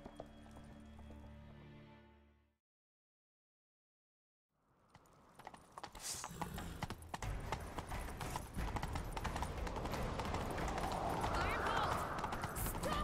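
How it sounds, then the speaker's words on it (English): Hooves of a horse gallop in The Witcher 3 after a short musical passage and a pause, building into steady, loud clip-clop under game music and effects, with voices in the background. "Grab a horse, we'll chase him down."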